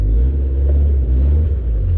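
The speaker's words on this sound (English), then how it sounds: "You can also hear the pilot bearing making noise." An old Italian sports car engine idles with a worn pilot bearing, making a steady, loud, low rumble that stays even with no breaks.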